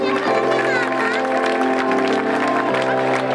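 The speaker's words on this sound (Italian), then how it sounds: "Grande applauso!" A crowd applauds continuously at a women's volleyball team presentation in Conegliano, loud and dense, with voices and cheering mixed into the clapping.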